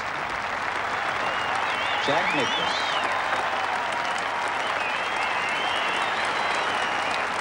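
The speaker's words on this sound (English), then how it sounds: "you can hear the applause" Steady, sustained audience applause from a golf gallery at the 1984 Open Championship at St Andrews, a dense wash of clapping throughout with a commentator speaking over it.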